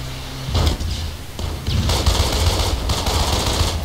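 Gunfire in Code of Honor: French Foreign Legion, loud bursts of automatic shots coming close together, with no one talking.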